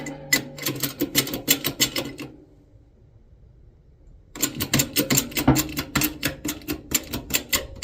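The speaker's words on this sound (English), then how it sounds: "And I'll start pressing this in." A hand press tool pushes a plastic cap, beveled edge down, onto a shaft while preparing engine lifters, giving a close, rhythmic series of sharp clicks that stops for about two seconds before the clicking resumes.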